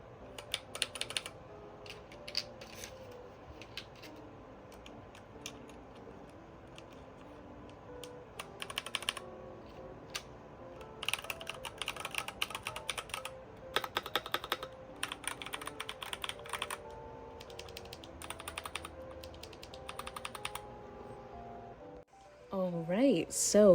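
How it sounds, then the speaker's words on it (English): Mechanical keyboard fitted with smooth, thocky keycaps being typed on in bursts of quick keystrokes with short pauses, close and moderately loud, with a few brief spoken words near the end. "these keycaps actually sound really smooth. I was going for more of a thocky sound"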